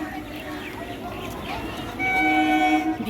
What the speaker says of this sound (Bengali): তো আমাদের একটা ট্রেন চলে এলো